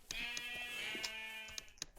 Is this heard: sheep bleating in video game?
yes